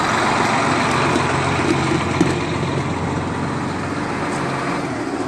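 A 2011 John Deere 7230R tractor with a front three-point PTO runs steadily, its engine giving a continuous close droning hum with no talk.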